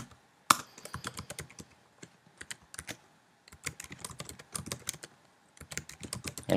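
Rapid keystrokes on a computer keyboard as an email address is entered, coming in quick bursts with brief pauses, close and crisp, with no speech.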